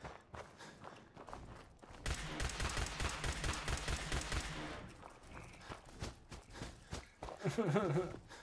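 Rapid pistol fire in Fallout 4, a dense burst of sharp shots over about three seconds, then scattered footsteps and a few further thuds, with a voice speaking briefly near the end.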